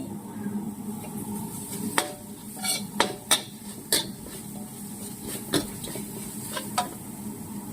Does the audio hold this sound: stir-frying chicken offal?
yes